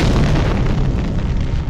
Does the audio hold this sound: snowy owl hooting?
no